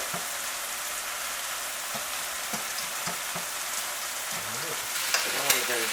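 Shrimp sizzle and fry steadily in extra virgin olive oil in a pan, a continuous close crackle with a few soft clinks and stirring sounds scattered through it.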